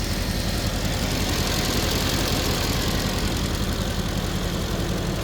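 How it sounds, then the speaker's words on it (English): A 2017 Mercedes-AMG GT V8 twin-turbo coupe idles with a constant, even engine hum close to the recorder, steady and unbroken with no voices. "The engine's currently running."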